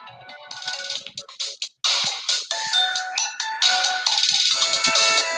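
Phone ringtone going off during an online call, with a bright melodic electronic tune repeating in loud phrases that clip and break up slightly, with no talking over it.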